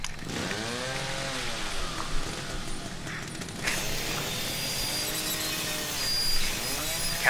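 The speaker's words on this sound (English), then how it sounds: "Chainsaw!" A chainsaw in the horror game The Evil Within revs repeatedly, its engine climbing and falling in several surging whines, loud and close, with a sharper burst near the end.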